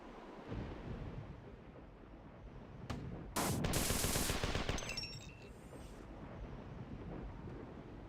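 In the video game Marathon 2: Durandal, a shotgun fires once as a sharp, loud blast with a brief rumbling tail. It stands out mid-clip over quiet game ambience.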